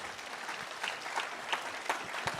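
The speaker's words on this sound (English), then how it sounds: "a huge round of applause for our panel here" Applause for a discussion panel on Buddhism and science, fairly quiet and distant, a continuous wash of clapping with a few sharper individual claps standing out.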